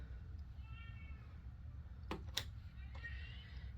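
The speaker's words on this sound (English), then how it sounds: "My cat has come down to say hello." A house cat meows faintly a couple of times, with soft clicks and a low steady hum in the room.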